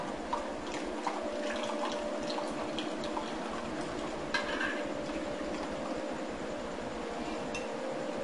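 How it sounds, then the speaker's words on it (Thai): Melted herbal soap base, a Thai lye-made soap, pours slowly in a faint, continuous liquid trickle with light splashy detail and no voices. "ละลายหมดแล้วนะคะ ทีนี้เราก็เทค่ะ"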